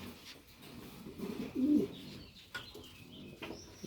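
Pigeons in a breeding loft give a low, soft cooing that swells once near the middle, with faint chirps and rustling around it and no talk.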